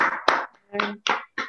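A few people clap over an online video call at the close of a natural history society talk, sparse separated bursts of hand claps, close and fairly loud, with gaps of silence between them.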